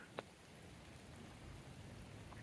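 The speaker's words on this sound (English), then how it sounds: "this has been a steady rain off and on all day" Steady, soaking rain falls as a soft continuous hiss with faint scattered drips, low and even throughout, with no talking.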